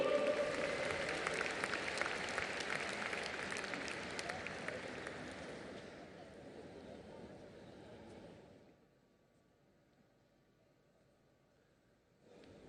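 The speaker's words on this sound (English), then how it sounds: "Round of applause for Madhuri Dixit, people." Audience applause at the closing ceremony of the 52nd International Film Festival of India in Goa: a large crowd claps loudly and steadily for about eight seconds, then fades to quiet.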